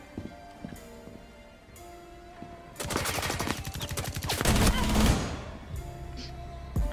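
Video game shootout gunfire: after a quieter stretch with scattered clicks, a rapid automatic burst erupts and continues for several seconds, loud and close, followed by a few faint later sounds.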